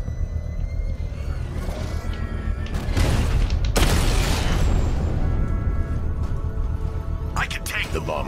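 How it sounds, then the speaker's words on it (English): A controlled bomb explosion in the video game Batman: Arkham Knight bursts out as a loud, broad blast with a sharp second crack a moment later, then a rumbling tail and a few faint pops near the end. "I can use the power winch to trigger a controlled explosion"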